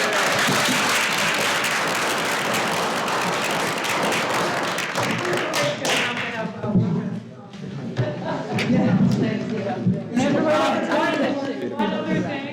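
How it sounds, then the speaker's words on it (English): An audience applauds at a forest lands conversation event, a dense wash of clapping that stays steady for several seconds, then thins into scattered claps and crowd murmur toward the end. "Let's give Gail a round of applause."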